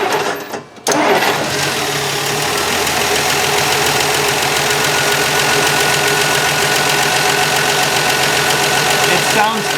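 A classic car engine that had sat unused runs with its carburettor mixture enriched by about three turns: a brief cranking burst, then a loud, steady, close-up idle with an even mechanical rumble that holds for the rest of the clip.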